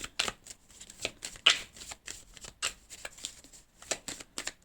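Tarot-style cards are shuffled and drawn for a reading, a close, steady run of crisp riffling flutters and soft slaps repeating through the clip without talk.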